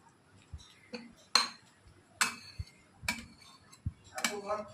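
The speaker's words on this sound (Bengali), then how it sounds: "হ্যাঁ, এবার ঢাকা দিয়ে রেখে দেবো।" A few sharp metallic clinks and clanks of kitchenware, like a lid set on a cooking pot, spaced out against a quiet background.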